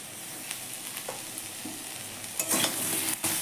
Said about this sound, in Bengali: তারপর সমস্ত সবজিগুলো দিয়ে দিয়েছি একসাথে একটু ভাজা ভাজা।